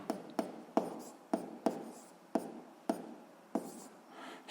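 A pen scratches out a distance value by hand during a physics exercise: about ten short, quick strokes and taps, close and fairly quiet, with no other sound.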